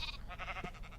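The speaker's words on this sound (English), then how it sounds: "We have two baby sheep." A baby sheep in the TerraFirmaCraft video game gives one short, wavering bleat, faint and brief.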